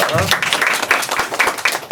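Brief burst of applause from a seated audience at a talk-show style presentation, quick overlapping claps, close and fairly loud, with speech mixed in.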